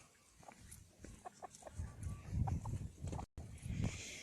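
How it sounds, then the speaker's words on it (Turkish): Chickens cluck in short bursts close by, mixed with farmyard rustling and shuffling, with a brief cut near the end. "Tavuklar."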